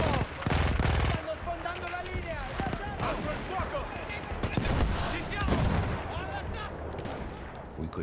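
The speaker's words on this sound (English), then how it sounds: "The gun just seems like a mini anti-air gun or some shit." Rapid anti-air gunfire from a small mounted gun in Battlefield 1, heavy repeated blasts over dense battlefield noise and explosions, loud and continuous, with a voice talking beneath the chaos.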